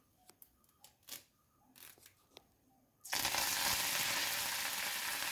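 Curry leaves hit hot coconut oil with a sudden loud, steady sizzle that fills the rest of the moment, preceded by a few soft clicks and handling taps.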